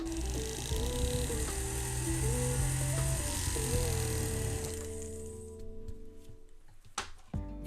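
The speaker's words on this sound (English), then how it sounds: "We're going to burr and check." A 2 mm round burr on a rotary tool cuts a flush or gypsy stone seat at the jeweler's bench, giving a steady close whine with shifting pitch that stops partway through, followed by faint bench handling.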